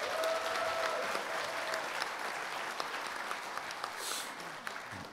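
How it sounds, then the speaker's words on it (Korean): An audience at a national assembly debate forum applauding university presidents, giving sustained, even applause from a crowd in a hall that fades slightly toward the end. "두 분 영웅적인 총장님께 여러분 큰 박수를 부탁합니다"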